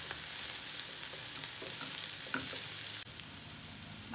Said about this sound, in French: Faire suer les poireaux.